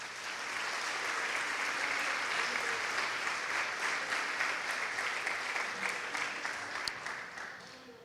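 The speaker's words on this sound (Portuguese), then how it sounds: "Dê um aplauso para Jesus." Congregation applause in a Brazilian church, a wide, even wash of clapping that rises quickly, sustains for several seconds at moderate level, and tapers off near the end.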